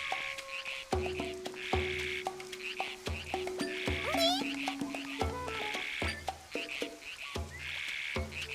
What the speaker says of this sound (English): I got it. It's a frog.